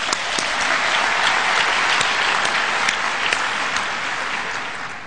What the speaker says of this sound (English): So let's give ourselves a big round of applause.